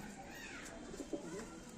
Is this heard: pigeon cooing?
yes